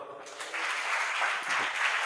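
Audience applause for a youth skit at a church gathering, a steady wash of many hands clapping at moderate loudness throughout, with no talk over it.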